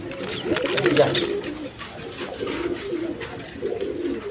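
Giribaz high-flying pigeon squabs coo softly in low, rolling murmurs, fairly close but quiet, with a person speaking over the birds throughout.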